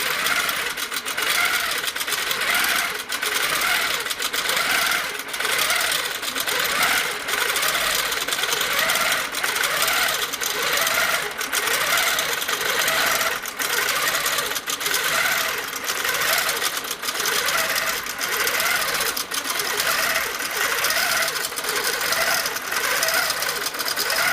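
A sewing machine stitches continuously back and forth for the whole stretch, a steady, loud, rapid mechanical whir with even repeating pulses and no pauses or talk.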